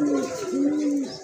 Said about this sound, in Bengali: এখানে কিন্তু একজোড়া ম্যাকপাই কবুতর দেখতে পাচ্ছেন